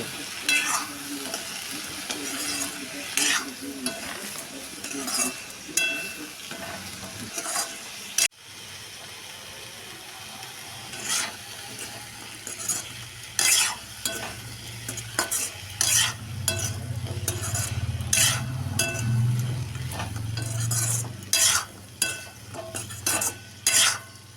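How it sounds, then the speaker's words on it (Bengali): Salt and turmeric are stirred into a vegetarian Bengali paste dish in a pan, with a soft sizzle under frequent sharp spatula scrapes and taps, close by and without speech, the frying growing louder toward the end. "এবার দেব পরিমাণ মতো নুন হলুদ মিশিয়ে নেব"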